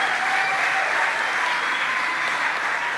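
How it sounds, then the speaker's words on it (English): Steady, dense applause from a crowd at a Tulsa mayoral candidates debate, sustained at full volume throughout with no pauses. "Now give them all a round of applause."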